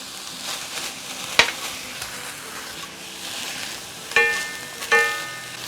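Minced garlic frying with seasoned bracken fern in a pan, producing a soft continuous sizzle with a few light utensil knocks and scrapes, close and moderately quiet.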